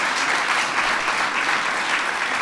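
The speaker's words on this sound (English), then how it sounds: "Let's give them a round of applause" An audience at a White House student poetry workshop gives a sustained round of applause, an even, close wash of many hands clapping with no break.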